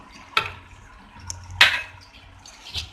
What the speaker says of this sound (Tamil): இப்போ இதுல ஒரு 1 டேபிள் ஸ்பூன் அளவுக்கு தண்ணி விடுறேன்.